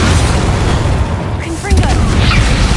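Spell blasts in the video game Hogwarts Legacy, heavy booms and bursts rumbling under a voice calling out spell names, with a brief lull before the impacts pick up again.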